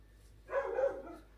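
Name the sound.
dogs barking at someone outside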